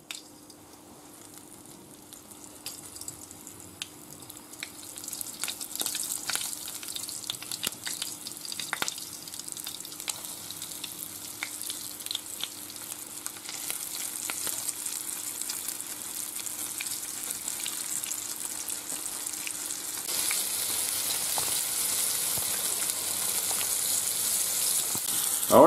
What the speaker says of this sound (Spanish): Ya lo hemos rebozado y ahora lo ponemos para freír.